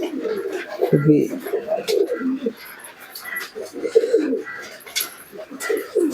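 Pigeons in a home loft coo in low, repeated, rolling phrases while busy feeding, their calls close and intermittent under a person talking.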